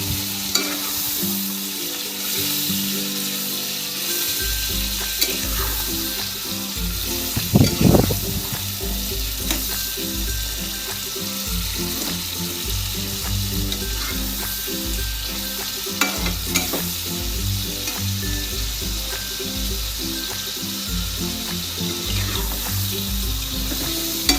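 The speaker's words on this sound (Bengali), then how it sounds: "ভালোভাবে নেড়ে নিলাম" Salted chicken kosha fries in a pan while being stirred: a loud, continuous sizzle with repeated scraping strokes of the spoon, close up and with no talking.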